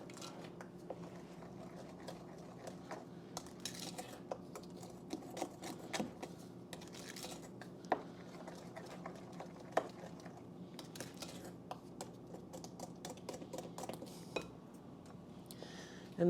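Sourdough discard banana bread batter being stirred in a bowl, a soft continuous run of wet squishing and light spoon taps against the dish, quiet and close.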